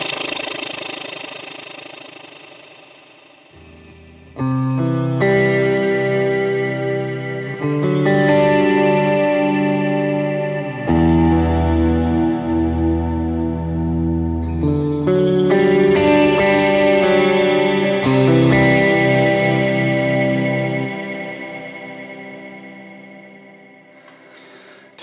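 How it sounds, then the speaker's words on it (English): Electric guitar swell played through a praise and worship pedalboard's delay effects, sustained chords fading in and blooming into layered echoing repeats that wash into an ambient reverb-like tail, loud and continuous before slowly decaying. "I'm gonna do like a little swell for you so you can hear this."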